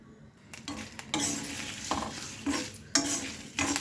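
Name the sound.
dry roasting dried red chillies and coconut in a pan without oil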